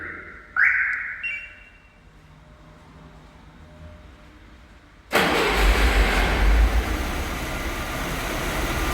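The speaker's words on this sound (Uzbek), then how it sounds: "Bu mashinaga zavadash qilib berdik." A VAZ 2107 car engine cranks with a short starter whine, then catches midway and settles into a loud, rough, steady idle with a low rumble, heard close up and alone.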